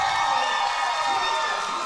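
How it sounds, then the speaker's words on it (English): College hockey arena crowd at a playoff semifinal cheering loudly as a team advances to the championship, a sustained roar of many voices with high shouts, close and constant throughout. "Crowd getting hype hearing that West Virginia heading to the championship"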